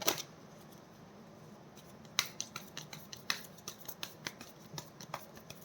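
A deck of tarot cards is shuffled by hand, a quick run of crisp riffling snaps and flicks with a louder burst at the start, close and quiet with no talking.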